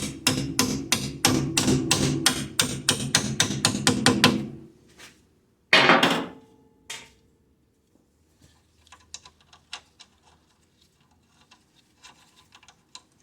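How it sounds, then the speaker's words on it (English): Quick, light metallic taps repeat rapidly for several seconds as a hammer strikes a Honda Accord CV axle, then a single louder knock rings out, followed by faint scattered taps. "Small hammering on it."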